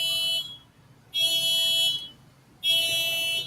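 A car alarm sounds in loud, steady electronic tones, three long bursts separated by short silences.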